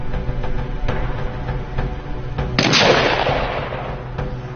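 A rifle shot at a military shooting competition rings out as a single sharp crack with a long fading tail, over a steady outdoor rumble and a few faint thuds.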